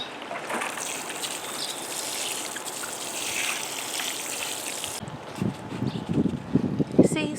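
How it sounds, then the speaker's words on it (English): Water pours steadily over the soil of a potted fig plant for about five seconds, then stops, leaving a few soft handling knocks and bumps close by. "you press it in gently and water it in."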